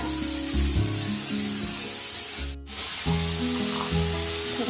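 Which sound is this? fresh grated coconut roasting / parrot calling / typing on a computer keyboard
fresh grated coconut roasting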